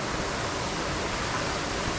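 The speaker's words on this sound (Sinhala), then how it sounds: "එතනින් පහළට තමයි දියල් වැටෙන්නේ" A waterfall in the Sripada Peak Wilderness Sanctuary roars as a steady, dense wash of broadband water noise, close and unbroken with no voices.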